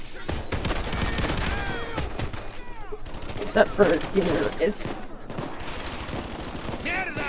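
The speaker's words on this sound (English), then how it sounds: "let's use the Brothers Grimm's it's been a while since I've used these old things" Brothers Grimm shotguns fire in the game Payday 2: rapid repeated blasts with ringing, clattering effects and chaotic in-game noise, while someone talks over much of it.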